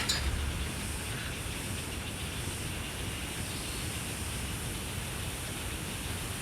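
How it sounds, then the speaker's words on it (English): In a valley on a short trail near Manali, crickets, rain on a roof, a river below and birds blend into a faint, unbroken wash of hiss and chirring that holds steady throughout. "It's like crickets, rain on the roof, the river down below, different kinds of birds everywhere."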